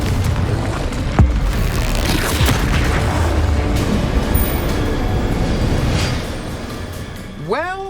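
Explosive spell combat in the Hogwarts Legacy video game, a dense, continuous roar of loud booming blasts and rumble that eases off near the end, where bright rising magical chirps take over.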